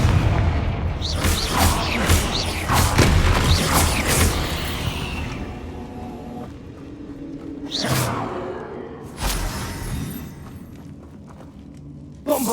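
A Confringo fire spell goes off in Hogwarts Legacy with a loud whooshing burst and booming impacts, followed by a few more sharp blasts and mechanical clatter during combat.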